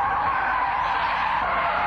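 A car sliding sideways through a corner, a steady loud tire squeal and skid that holds evenly throughout with engine noise underneath.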